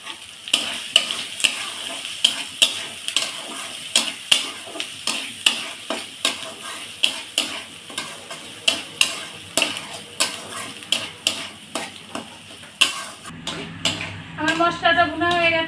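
Spice paste with turmeric and salt is stirred and fried in a pan for a small katla fish bhuna. A spoon scrapes in a steady, repeated rhythm over a constant sizzle, loud and close, with clattering handling near the end.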